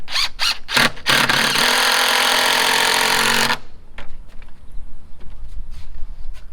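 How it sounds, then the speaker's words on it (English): A power drill being used while building a rustic bar and prep table outdoors runs loud and steady for about three seconds after a few short bursts, then cuts off, leaving quieter background noise. "Oh, I love this drill."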